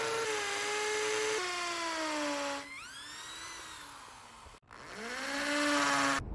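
A power drill boring holes into a wall to mount a metal bracket for a doorway pull-up bar, a steady high whine that dips and restarts in several bursts with pitch sliding as the bit bites, loud and close with no talk.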